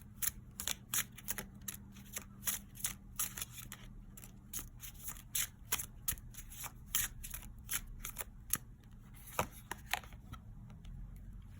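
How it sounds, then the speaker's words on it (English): Tarot cards are shuffled and pulled in a quiet room, a long run of soft riffling flicks and light slaps in quick irregular bursts, close and gentle, with no talk. "I'm gonna pull probably like a card or two"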